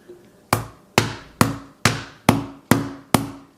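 Seven sharp hammer strikes land on the glass of an iPhone 12 Pro at a steady, even pace, each a crisp ringing crack that quickly fades.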